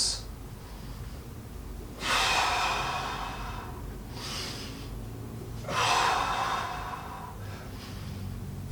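Heavy breathing during press-ups, with two long, loud exhalations and a couple of shorter breaths in a steady rhythm. The breaths sound close and there is no talk.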